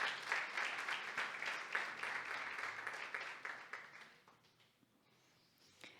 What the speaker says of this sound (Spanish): Démosle ese aplauso al Señor porque se me están como durmiendo.